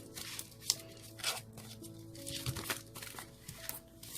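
Tarot cards being shuffled by hand: a run of quick, papery riffles and soft crinkling bursts that rise and fall irregularly, close up and fairly quiet, with no voice over them.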